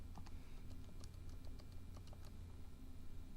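Data being keyed into a graphing calculator for a statistics list, a quick run of small, faint plastic button clicks in an irregular rhythm over a steady background hum, with no voices.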